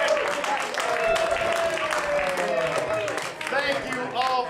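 Audience applause at a live comedy show, a steady wash of clapping that lasts throughout while a voice talks loudly over it.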